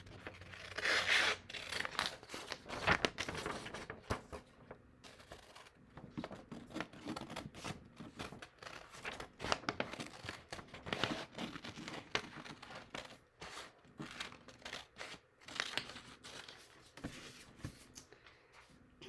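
Scissors snipping through paper to cut out a crocodile tongue for a gator and croc craft, a steady run of close, soft crinkling cuts and paper rustles with no talking.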